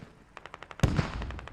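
Rapid SKS rifle gunfire in the video game Squad, a string of sharp shots closing in with one loud near blast and denser firing after it.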